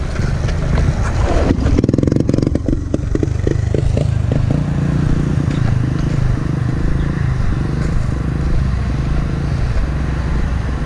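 A trail motorcycle engine revving on a dirt trail, loud and close, with rapid throttle blips and a chugging, uneven idle that rises and falls across the stretch.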